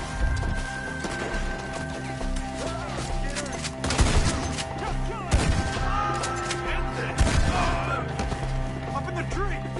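Gunfire aimed at enemies up in the trees rattles in sharp bursts and scattered single shots, some loud and close, over music and background noise while voices shout.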